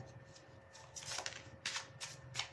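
Tarot cards being shuffled during a relationship reading, a quiet papery riffle in several short bursts, close but faint with low background hum, no talking.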